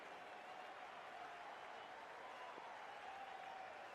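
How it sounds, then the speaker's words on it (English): Steady crowd applause in the Cricket 24 video game, a faint, even wash of clapping that holds for the whole stretch, with no voices over it. "Please give him a round of applause."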